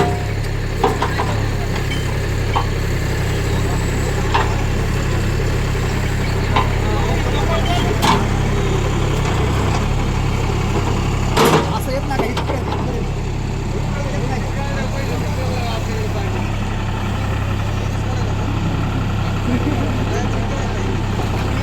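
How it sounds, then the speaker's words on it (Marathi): A tractor converted into a JCB-style loader idles at an agricultural exhibition in Baramati, a steady low diesel rumble running throughout with occasional knocks and clanks, while people talk over it. "ट्रॅक्टरला आपल्या JC मध्ये कन्वर्ट केलेलं आहे"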